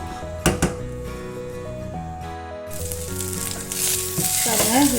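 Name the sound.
rice frying and stirring with garam masala in pan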